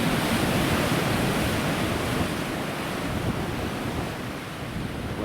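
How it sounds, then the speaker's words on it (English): A big ocean wave breaks on the shore as loud, continuous roaring surf with a broad wash of noise. Wind buffets the microphone and the surge eases slightly near the end. "Wait for a big wave to come."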